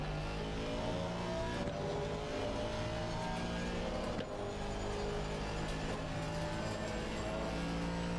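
A race car engine in a racing video game, practice session, drones steadily and loudly throughout with a continuous high revving whine, brief shifts in pitch suggesting gear changes, no voices over it.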